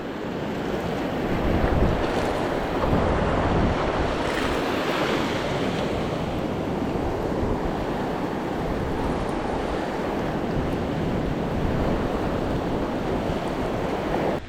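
Steady roar of ocean surf breaking on a beach during a fishing trip, with continuous wash and gusty wind buffeting the microphone, loud and unbroken throughout with no voices.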